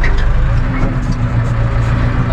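A vehicle engine on a farm in Northern Ireland pulls away in first gear, its steady mid-pitched drone loud and close throughout with no other sound standing out.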